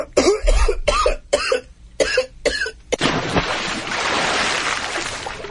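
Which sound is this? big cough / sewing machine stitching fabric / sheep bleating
big cough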